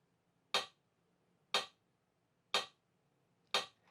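Four crisp, evenly spaced metronome ticks at 60 beats per minute, one sharp click each second, heard alone against near silence.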